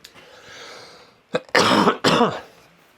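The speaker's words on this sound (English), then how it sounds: "Sorry about this cough." A person coughs and clears their throat several times in quick bursts, close and loud, after a brief quieter stretch, with no talking.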